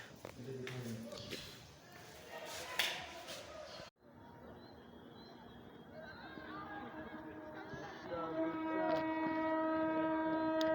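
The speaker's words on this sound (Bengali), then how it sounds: "এই সেই ট্রেনের হুইসেল, ময়মনসিংহ মেডিকেলের হোস্টেল থেকে।" A train whistle or horn carries from the tracks to a medical college hostel in Mymensingh. Several sustained tones sound fairly near over steady rail rumble and general background noise in the second half.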